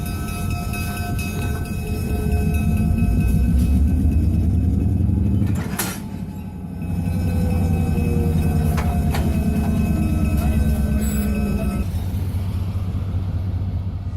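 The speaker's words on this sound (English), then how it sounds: "The engineer will try again to couple up to the cars." Locomotive 400 backs slowly into its train to couple up with knuckle couplers, giving a loud, steady rumble with brief louder clanks partway through and near the end.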